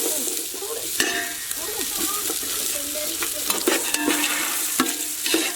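Onions sauté in plenty of oil for a whole-chicken biryani cooked on a rooftop terrace: a loud, close sizzle with frequent spatula scrapes and clinks against the pot as they are stirred.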